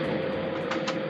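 A kitchen extractor fan runs over a hob on low heat, giving a steady, close whooshing drone with a constant midrange hum and two brief hissy flares near the end, with no voices.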